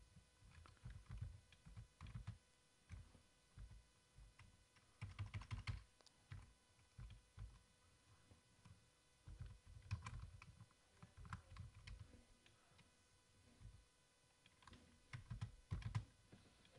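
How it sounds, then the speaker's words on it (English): Someone types on a computer keyboard with rapid, uneven bursts of clacking keystrokes and short pauses between them, close up and fairly quiet, with no talking. "my typing is just getting worse by the day"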